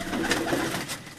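Pigeons kept by a fancier in Tarlai, Islamabad coo in a brief, close, fairly loud burst of soft throaty calls over a steady murmur of background noise.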